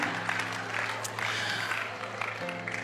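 An audience applauds steadily for the whole stretch, a dense, even wash of clapping with no pauses or standout individual claps.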